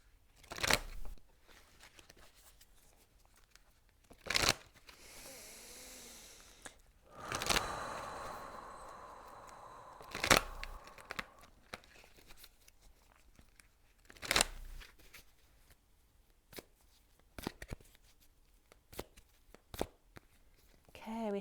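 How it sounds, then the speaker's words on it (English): Tarot-style energy cards are shuffled and drawn in soft, crisp bursts of riffling and snapping, recurring every few seconds at close range amid quiet room noise. "I'm going to pull an energy card for you too"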